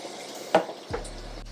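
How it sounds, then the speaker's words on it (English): Plant-based Impossible burger patties sizzle in a pan, a steady soft hiss broken by a couple of sharp utensil clanks against the cookware. "look at all that sizzle"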